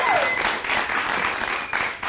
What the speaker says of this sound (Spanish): ¿Pueden aplaudir de nuevo en esta parte?